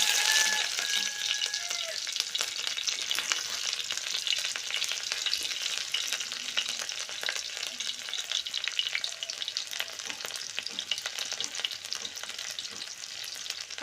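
Onions sizzling in hot oil in a pan, with a steady, dense frying hiss that continues evenly throughout at close range and no voices.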